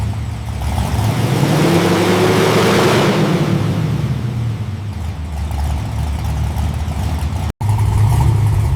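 A black Chevrolet Impala SS with a 427 engine revs loudly and steadily close by, its pitch climbing and falling through a sustained throaty run, with one brief cutout near the end.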